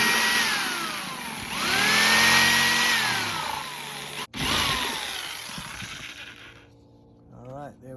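A power tool cuts out the inside of a small DIY air conditioner unit, a loud whining motor that rises and falls in pitch, cuts off sharply once, then winds down.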